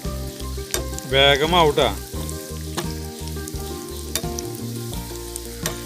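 Cabbage manchurian balls deep frying in a shallow pool of oil at home, a loud, close, bubbling sizzle with brief stirring clinks and a short spoken remark over it.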